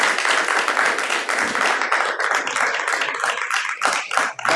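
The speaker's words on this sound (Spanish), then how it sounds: "Dale un fuerte aplauso a Hashem." Applause for God from a worship congregation at a Hebrew-roots service, a dense steady patter of many hands clapping at fairly close range with no talk over it, thinning slightly toward the end.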